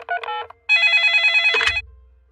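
Cartoon telephone bell rings from a Hindi-dubbed Peppa Pig episode, two bright electronic trills with a short gap between them, loud and clear with no talking over them.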